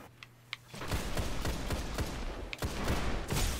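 An exotic fusion rifle firing in the Destiny game: after a couple of faint clicks comes a loud rapid burst of shots, a brief dip, then more firing, with no talk over it.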